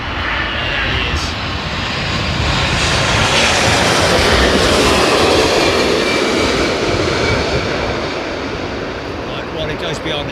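An Etihad airliner comes in to land at London Heathrow in a crosswind, its engines a loud roaring rumble that swells and fades gradually as it passes near.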